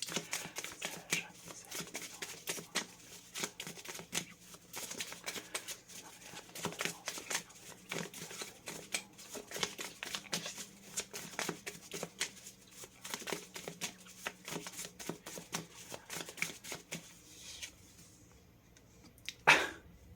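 Tarot cards are shuffled over and over in a long quiet stretch of soft riffling and slaps with irregular pauses, ending in one sharper burst.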